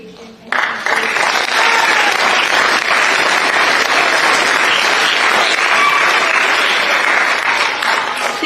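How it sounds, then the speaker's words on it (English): Audience applause fills an auditorium at a multicultural language festival at Kauai Community College's Performing Arts Center, a loud, dense, sustained wash of clapping that starts abruptly and carries on steadily to the end. "Let's give a round of applause to the Kauai Department of Education"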